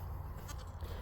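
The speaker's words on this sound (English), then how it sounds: "So there's a lot of goats in here now." Several goats bleating in a barn pen, a steady low-pitched bleat filling the short clip at moderate volume with no talk.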